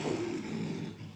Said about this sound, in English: That's a lion. It's a lion.